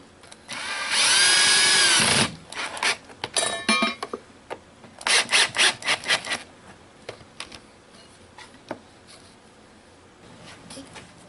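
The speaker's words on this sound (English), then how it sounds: "and then I'll put a screw in the other side." A power drill drives a screw through a template into a log slab, a loud sustained whine near the start followed by shorter bursts and scattered knocks and scraping of wood handling.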